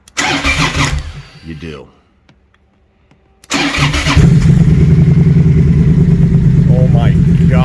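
A 2014 Triumph Thunderbird LT cruiser motorcycle cranks briefly and falls silent. A second attempt fires it into a loud, deep, rumbling idle that runs steadily to the end. A short spoken remark comes early on.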